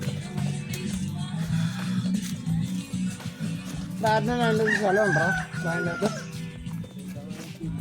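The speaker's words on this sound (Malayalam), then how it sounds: "ഇവിടെയുള്ള ആരെങ്കിലും വളർത്തുന്ന കോഴിയാണെന്നാണ് നമുക്ക് തോന്നുന്നത്" A farm chicken at a rural spot near Dandeli or Gokarna gives a rooster's crow partway through, with clucking around it, over a steady background of outdoor noise and nearby people talking.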